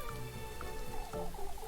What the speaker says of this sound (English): This rain won't let up, will it?